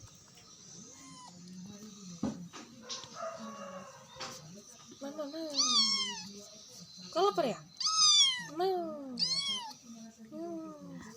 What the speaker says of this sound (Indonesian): aku disambut sama 3 ekor kucing, 2 ekor anak kucing, dan 1 induknya